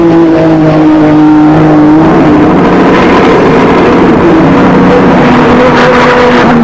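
A 1991 Nissan GT-R R32 race car engine roars loudly and close at Bathurst, its high-pitched whine dropping as it speeds past, staying loud the whole time.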